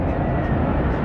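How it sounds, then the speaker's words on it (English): Navy F-14 Tomcat jets taking off at NAS Oceana produce a loud, steady, broadband engine roar that fills the whole short stretch without pause. "we have a couple of more Tomcats taking off"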